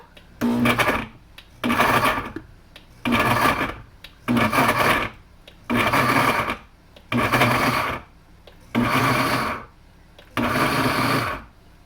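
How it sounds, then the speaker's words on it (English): A blender pulses in eight short bursts, each about a second long and separated by brief pauses, loud and close. "just like any good blender, you can turn it on and have a go"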